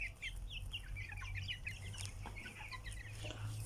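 Yellow hens cluck steadily in a busy chorus of quick, overlapping calls at moderate distance, with a low steady hum beneath.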